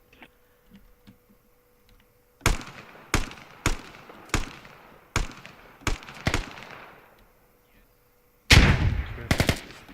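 Gunfire in a multiplayer shooter match, a quiet lead-in followed by sharp separate shots spaced irregularly, each ringing off, then a tight burst of rapid fire at the end, loud and close.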